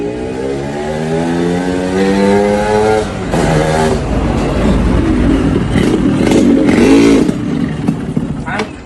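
A motorcycle, a CRF, approaches and revs, its engine rising in pitch as it nears and then roaring loudly up close, with voices talking over it.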